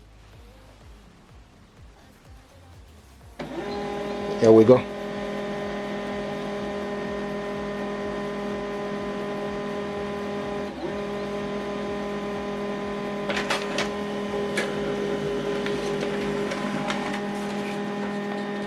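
An HP LaserJet M140we laser printer starts up with a thud and runs steadily, printing a page with a whirring hum and a few clicks, while someone speaks briefly near the start.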